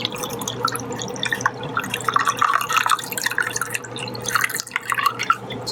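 Coffee grounds and liquid are tipped quickly into a container, giving a run of splashy drips and trickles that rise and fall in uneven bursts, close and fairly loud, with no talking.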